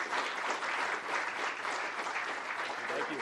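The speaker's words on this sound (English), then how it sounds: "a round of applause" An audience at a policy forum gives a round of applause, continuous even clapping from a room full of people, sustained throughout without pause.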